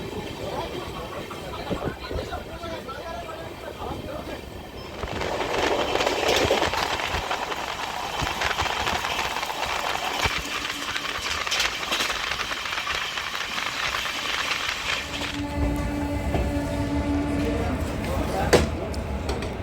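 A train rolling through Tarapith Road junction station, steady loud rumble and rail clatter heard from inside the carriage, with brief clicks and a shift in tone midway.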